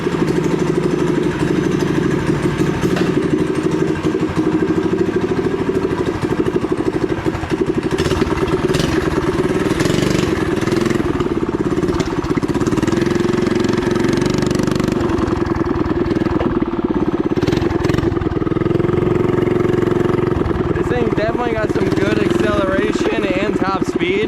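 A 212cc minibike engine with a straight pipe and no governor runs loud and raw, a continuous rattling buzz with rises in pitch as it revs.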